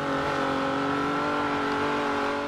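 An 800hp widebody Nissan 350z engine in the video game Forza Horizon 2 holds a loud, steady high-rev roar with a harmonic whine, sustained throughout the short stretch with no speech.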